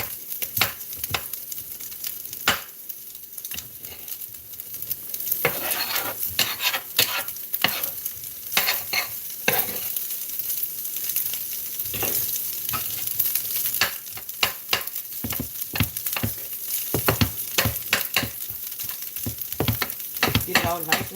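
Leftover rice sizzles and fries in a pan while being stirred, giving an ongoing crackle with repeated scraping strokes, close and fairly loud, with no talk over it.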